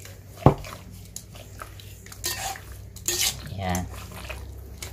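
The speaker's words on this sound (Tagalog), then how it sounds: "Haluin na haluin para magkaroon ng kulay." Pork tocino stirred with sugar in a pan, a utensil clanking against the metal now and then with a sharp knock near the start and scraping, sizzling stirs after it, close by and with no talk.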